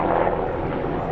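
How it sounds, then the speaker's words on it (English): A large helicopter passing overhead, heard as a loud, steady broadband rotor and engine roar that holds level for the whole short stretch, with no talking. "Got a big helicopter going over here."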